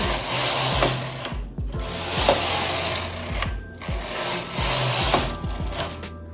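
The carriage of a knitting machine is pushed back and forth across the needle bed as rows of yarn are knitted, a rhythmic mechanical clattering whir in repeated sweeps of about a second, with brief pauses between passes.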